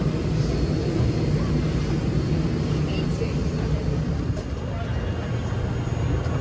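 A passenger airplane's engines hum and rumble steadily while boarding and taxiing, a continuous low drone heard from inside the cabin with faint background murmur.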